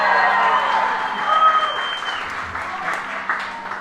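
Wedding reception guests applaud after the bride's father speaks about walking his daughter down the aisle, a steady wash of clapping from a crowd sustained for several seconds with some voices mixed in.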